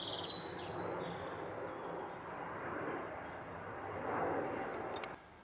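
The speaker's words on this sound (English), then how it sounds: "The only jet noise I've heard recently is now what looks like either military or private planes" Small military or private jets pass overhead above the Lincolnshire countryside near Sleaford, a broad distant roar that holds steady and swells slightly before fading, with faint birdsong and insects in the background.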